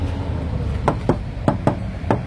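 Five sharp knocks on the thin, hollow metal door panel of a 1994 Suzuki Katana GX (SJ410), nearly without body filler, spaced unevenly over two seconds against a low background hum.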